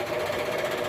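A steady, dense mechanical whir and buzz from a machine cutting a metal mounting puck, continuous and close at moderate loudness, with no talk.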